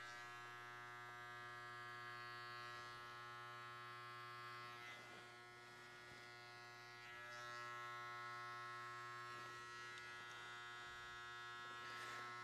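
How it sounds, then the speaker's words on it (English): An electric razor buzzes steadily and close while shaving the neckline in a barber's classic business haircut, its hum lightly shifting in pitch as it moves along the hair, with no talking. "very slowly we're just going to work our way all the way around in an upward shaving motion"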